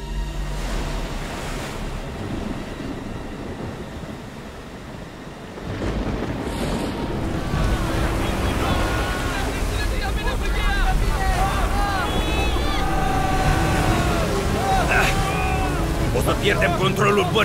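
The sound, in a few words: boat tossed in ocean waves, film sound effect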